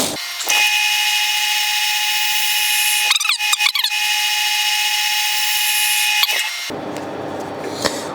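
A wood lathe spins an Osage orange bowl blank with a steady, loud whine, broken by a few brief cutting scrapes from the tool. The motor winds down near the end.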